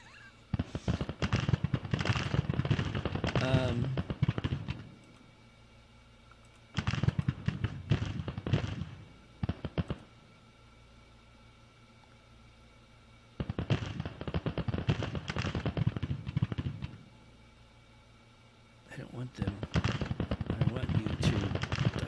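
Troops firing muskets in a Grand Tactician Civil War strategy game battle at Glorieta Pass, dense crackling volleys in four separate bursts with quiet gaps between them, moderately distant.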